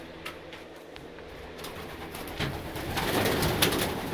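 Homing pigeons coo softly in their loft, a low throaty murmuring that swells and grows busier toward the end, heard close with faint background rustle and no voices.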